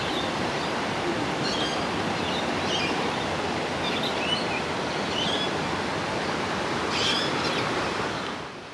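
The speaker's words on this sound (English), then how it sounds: "The first of them is waterfalls or just running water in general, the sound of just water in motion" Running water at Morialta Falls near Adelaide makes a steady, broadband rushing roar with no voices, constant throughout and easing slightly at the very end.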